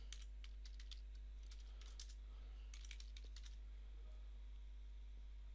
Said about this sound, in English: We'll type the correct name in there.